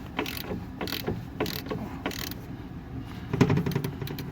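A ratchet clicks in quick bursts while tightening a sway bar link nut on a 2004 Nissan Sentra, close metallic pawl ticks in several short runs with brief pauses between strokes.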